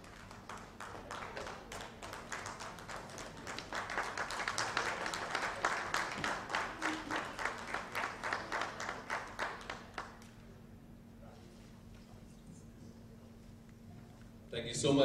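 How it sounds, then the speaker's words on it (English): Applause at a launch event for Reso Villa honoring Anil Kapoor: rhythmic, steady clapping builds and holds for about ten seconds, then falls away to quiet room noise with a brief burst at the end. "Please give a huge round of applause."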